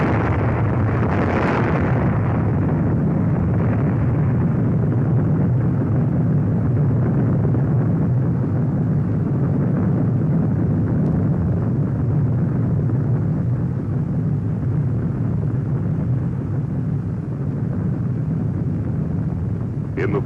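An atomic bomb dropped from a bomber onto a navy target blasts as a deep sustained roar, heavy low rumble with a sharp burst near the start, holding loud throughout with no clear voices.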